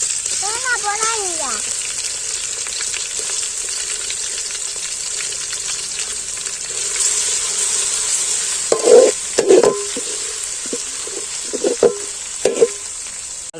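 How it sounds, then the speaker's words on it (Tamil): Crushed ginger and garlic hitting hot oil with cinnamon, cloves and fennel for a Tamil pepper chicken, a steady loud sizzle with brief stirring clatters near the end and a faint voice early on. "இப்போ நம்ம தட்டி வச்ச இஞ்சி பூண்டு போட்டுக்கலாம்."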